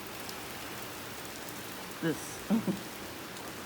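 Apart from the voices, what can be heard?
rain falling outside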